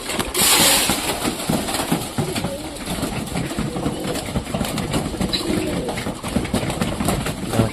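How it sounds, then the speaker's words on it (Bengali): Pigeons gather to eat scattered wheat, giving low soft coos among a busy mix of wing and feeding noise, with a faint engine hum in the background. "সব কবুতর চলে আসছে খাওয়ার জন্য।"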